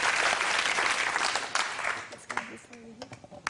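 Studio audience applause on a Guinness World Records television show rises loudly, then fades within a couple of seconds as a voice begins speaking.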